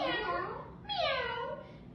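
A voice imitates a cat's meow in a sing-song children's rhyme, two drawn-out rising-and-falling meows one after the other, close and clear.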